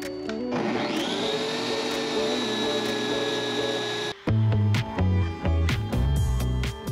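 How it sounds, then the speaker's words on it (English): A power router cutting out foam between fibreglass layers while fitting out a sailboat: a steady loud whine for about four seconds, then a sudden change to choppy, uneven motor bursts with knocks and rattles, close with no talking. "he routed out the foam which sat between the outer casings of fiberglass"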